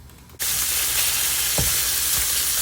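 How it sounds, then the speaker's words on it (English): A pound of partly frozen ground beef hits a hot pan and bursts into loud, steady sizzling that continues close up without pause, with a couple of faint scrapes underneath. "I'm cooking up a pound of ground beef."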